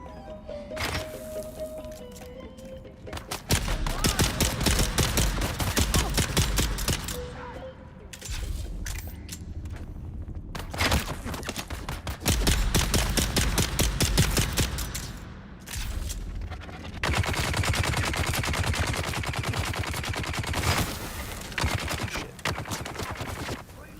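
Sniper and other gunfire in the video game Dune, sharp repeated shots and crackling bursts in several dense clusters across the span, fairly loud and punchy, with brief quieter gaps and occasional game sounds between.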